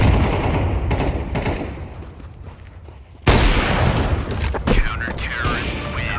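Grenade blast and gunfire in Counter-Strike, a sudden loud burst cutting in after a quieter stretch of rumbling shots, with continued bursts and some chatter underneath.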